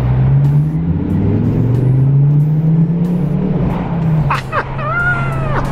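A Ford Focus ST225 engine drones loudly from inside the car on a tunnel run, rising in pitch as it accelerates and then shifting gear near the end, with a continuous close rumble throughout.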